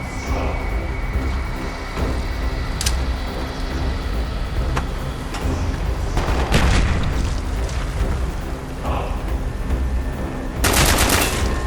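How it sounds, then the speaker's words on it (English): Gunfire in Call of Duty Black Ops rattles in bursts of rapid automatic shots and sharp cracks amid a rumbling shipboard battle, with louder volleys and booms breaking through the constant low din. "Shoot the support beams!"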